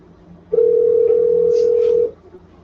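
On a telephone call being placed, a single steady dial tone sounds for about a second and a half, close and loud, with faint voices in the background.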